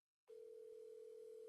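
A steady telephone dial tone that starts abruptly after a moment of silence and holds as a constant, quiet, even hum while a number is being called.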